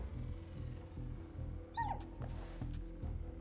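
Dog in Final Fantasy XV giving one short, quiet yip over a low droning game ambience, near but faint.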